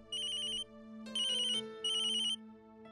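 Telephone ringtone plays in three electronic bursts, each about half a second, over a steady low musical drone, loud and with no talk.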